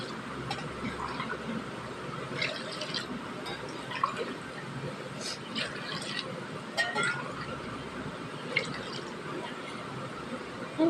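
Water poured from a tumbler into a pot of rice, roughly 4.5 tumblers for 2.5 measures of rice, giving soft continuous trickling and splashing with faint glassy clinks throughout, close and moderately quiet.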